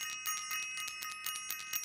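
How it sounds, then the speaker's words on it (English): A bright metallic bell rung rapidly again and again, about a dozen quick ringing strikes in steady rhythm, clear and close with no talk. "I'm going to ring the bell"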